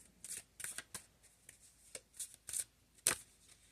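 Tarot cards are shuffled by hand in quick bursts, a series of soft riffling flicks with short pauses between them, faint and close with no speech.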